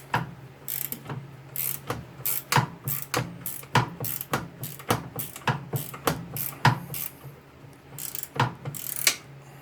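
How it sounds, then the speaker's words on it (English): Repeated ratcheting clicks while working on an Ariens Deluxe 28 snowthrower to free a bearing, close and steady in quick uneven bursts. "So we'll take this off and we'll slide this bearing out of there"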